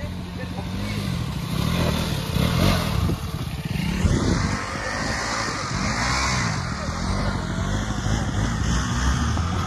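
A motorcycle engine revs and labours as the bike is taken off-road on a ride to Kodba waterfall, its pitch rising and falling, loud and close, with voices talking over it.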